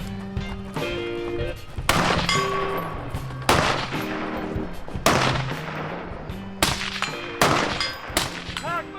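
Rifle shots crack out repeatedly on an outdoor range during an urban precision rifle class, a series of loud, close reports spaced a second or so apart, with metallic pings from struck steel targets ringing after several of them.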